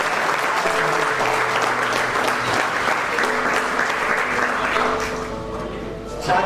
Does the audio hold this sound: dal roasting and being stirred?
no